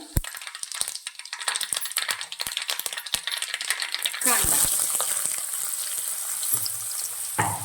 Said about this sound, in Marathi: तेल गरम झाले थोडीशी मोहरी जिरं